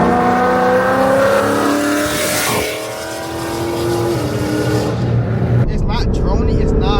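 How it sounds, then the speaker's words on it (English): Ford Mustang GT V8 with Corsa X-pipe exhaust rumbling loudly close by in city traffic, a steady deep drone that dips briefly and then swells again, with a voice talking over it and a lighter sound near the end. "It's not droney, it's not raspy, just clean sounds, clean sound V8"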